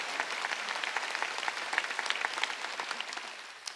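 A church congregation at a Sunday worship service applauding, a dense, moderately loud patter of many hands clapping steadily before tapering off slightly at the end.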